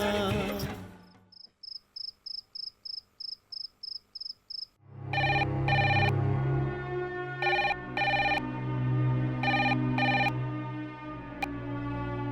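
A telephone rings in a domestic drama scene: a rapid electronic ring repeats in short regular bursts, then gives way to louder background music with sustained tones.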